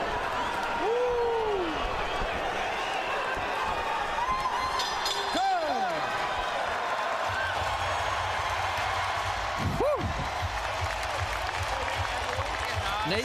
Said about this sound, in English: 10 seconds left in the fourth as the crowd serenades the Diaz